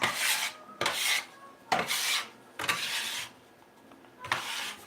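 Scraping excess flour off a kitchen work surface with a scraper: five or six short rasping strokes in an uneven rhythm, close and fairly loud, with brief pauses between them and no speech.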